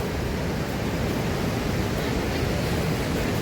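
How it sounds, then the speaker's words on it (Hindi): A fast-flowing mountain river on the trek from Sonprayag to Kedarnath rushes in a loud, unbroken roar that holds steady from start to finish, with no voices over it. "पानी का प्रवाह देखिए,"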